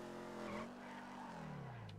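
A Mustang car in a roleplay driving video game braking and skidding, a steady tonal tire squeal that bends downward in pitch over two seconds, close and continuous, with no talking.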